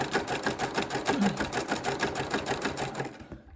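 A sewing machine stitches through a fabric-wrapped rope coil trivet, its needle chattering in a fast, steady rhythm close up before slowing and stopping at the end.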